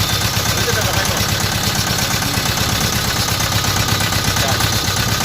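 Deutz diesel engine idling with a misfire, a loud close rough chugging with an uneven pulse throughout, with people talking over it.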